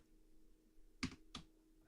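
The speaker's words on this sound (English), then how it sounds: "you're going to be able to hear my password through my keyboard." A few sharp keystrokes on a computer keyboard, about three spaced taps close to the mic, are heard as someone enters a password, with a faint steady hum in the background and no talking.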